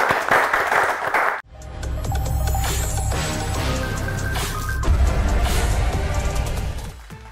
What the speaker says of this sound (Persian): کف بزنین به افتخار سعیده جان